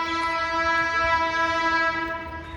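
A train horn sounds in a long, steady blast at Gangapur City railway station, a British-era station, loud and close with a faint rumble of rail traffic underneath and no talking.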